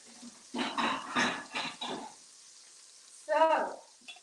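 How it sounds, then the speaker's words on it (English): A scallop sears in brown butter, giving a soft sizzle between bursts of nearby talking, with a louder spitting flare near the end. "that's a quick sear on that scallop, huh? Nice brown butter base."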